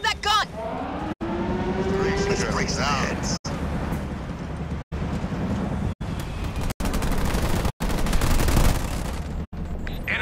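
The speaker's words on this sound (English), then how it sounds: "Scorpion, wake up that gun!" Gunfire from a Scorpion tank in the strategy game Halo Wars 2, heavy repeated cannon and gun bursts over a dense, loud battle din with engines, broken by short gaps and game voice lines.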